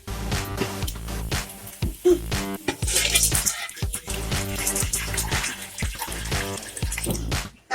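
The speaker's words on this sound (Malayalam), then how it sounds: "വെള്ളം ഒരു പകുതി ഭാഗം നമുക്ക് ഒഴിച്ചു കൊടുക്കാം" Water poured into a cooking pot while kuzhimanthi is made, a steady splashing stream with clinks of pots and utensils, fairly close and continuous, without any talk.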